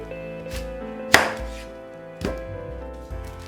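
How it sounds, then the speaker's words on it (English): A kitchen knife chops an onion on a cutting board, three or four separate sharp thunks spaced about a second apart, close and fairly loud, with no talk. "With chopping up this onion"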